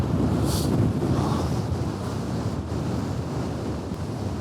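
Cold wind blows hard across a Scottish hilltop overlooking Rannoch Moor, a continuous loud rumbling rush of gusts buffeting the microphone, with no talk.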